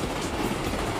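A train rumbles along its rails with a dense, steady roar and faint rhythmic clatter, loud and continuous throughout a brief moment.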